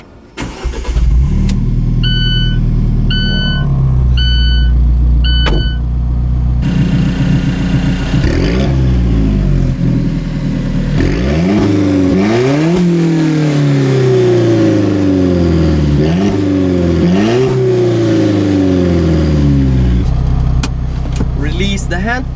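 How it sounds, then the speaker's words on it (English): An Alfa Romeo 4C Spider Italia fires up with a loud starter crank, then its engine settles into a steady idle before being revved hard several times, each rise and fall sweeping up and back down. "it is time to take the Alfa 4C Spider Italia for a first drive. Okay, so let's fire it up."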